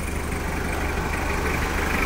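A 2001 Toyota Hilux SR5 with the 2.8 engine idles steadily and loudly, a constant low rumble with no pauses and no voices over it.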